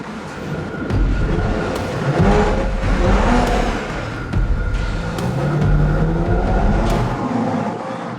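Audi RS4 B9 with its 2.9-litre V6 accelerating, engine note rising and surging in several waves of revving with gear-change dips, a strong close roar throughout.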